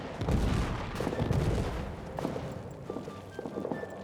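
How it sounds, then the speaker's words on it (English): Artillery shelling in the trench warfare video game All Quiet in the Trenches, heard as a muffled low rumble of distant impacts with scattered smaller pops and crackles. "Here comes some, hello, artillery. Landing right on my toes."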